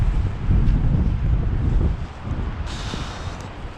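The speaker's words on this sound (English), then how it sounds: "It's a blustery day." Wind on a blustery day buffets a microphone in a loud, steady, low roar that eases off partway through, with no voices.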